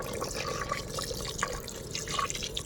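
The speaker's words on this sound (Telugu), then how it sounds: "ఇందులో 1 గ్లాస్ వాటర్ వేసుకుందాము." A glass of water poured into a cooking pot of Raju gari kodi chicken pulao, a quiet, close trickle and splash of liquid with no talk.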